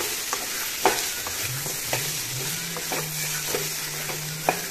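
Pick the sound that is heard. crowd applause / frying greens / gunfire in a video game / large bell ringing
frying greens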